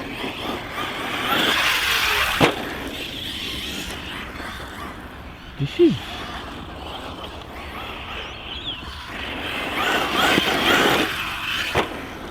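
An HPI Vorza S RC truggy runs on a 4S battery, its electric motor whining and surging as it drives, with a few bumps and knocks from the chassis landing, heard at a moderate distance.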